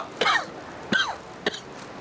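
Three separate harsh coughs from someone with a cold, each a short throaty burst with a rasping tail, spaced roughly half a second apart, close and clear against quiet background.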